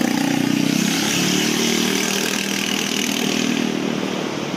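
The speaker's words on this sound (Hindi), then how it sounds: "आपको शोर आ रहा होगा गाड़ियों का" Steady road traffic roar with motor engines and motorcycles passing close by, a continuous loud rumble and whine throughout with no speech.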